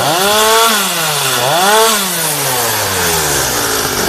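A chainsaw cuts through an oud (agarwood) tree branch on a Kerala plantation. It makes a loud, close, continuous roar whose pitch dips and rises as the chain bites into the wood, and no one speaks.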